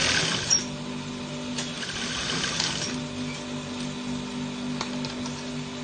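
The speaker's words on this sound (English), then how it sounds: "Then you sew. Just by the tip." A sewing machine stitches the tip of a placket on a kids' senator top, giving a steady mechanical whir with faint ticking that runs continuously and fairly quietly, with no talking.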